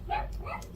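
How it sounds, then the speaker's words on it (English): Dogs outside argue in a short burst of yipping, whining vocalizations, fairly faint and distant, with no speech. "those are my dogs out there arguing"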